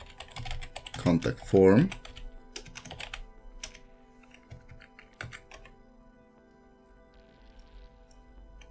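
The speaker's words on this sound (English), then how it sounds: "just type a comment in here." Computer keyboard typing in a CSS coding tutorial: scattered quick key clicks tap near and crisp, clustered early then thinning out, while someone speaks briefly over them.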